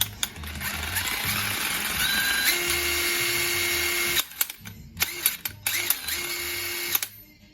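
An Ingersoll Rand impact wrench with IR power sockets runs on its high setting in a workshop, a loud whirring and rattling burst that stops abruptly, followed by several short, sharp pulls of the trigger.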